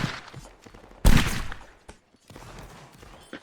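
Rifle volleys in a 95th Rifles video game battle, one heavy burst of massed gunfire followed by scattered distant shots and crackle, fairly loud against a quiet background.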